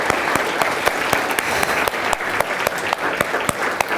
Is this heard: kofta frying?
no